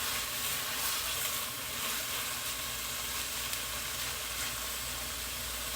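Spinach and other vegetables sizzle in a pan, a steady close frying hiss with faint stirring, no voices.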